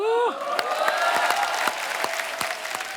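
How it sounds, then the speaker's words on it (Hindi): Steady applause from a large studio audience at a comedy show with sharp whistles rising over it, a voice briefly audible at the start. "आपकी ये तालियां, ये सीटियां हमारे लिए ऑक्सीजन का काम करती हैं।"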